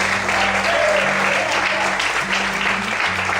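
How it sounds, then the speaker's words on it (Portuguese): A church congregation applauds steadily and loudly throughout, with sustained musical tones and some voices underneath the clapping. "Pode aplaudir, Senhor."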